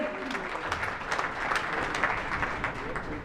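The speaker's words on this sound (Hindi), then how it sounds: "इनके लिए भी जोरदार तालियां करें" Audience applause at a Delhi political welcome ceremony and poetry gathering, a steady dense clapping from a crowd filling the hall for several seconds with no speech over it.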